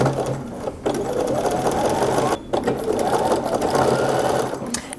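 A sewing machine stitches swim trunk fabric in a steady, fast mechanical whir that runs almost the whole time, broken by two short pauses, close and fairly loud with no talking.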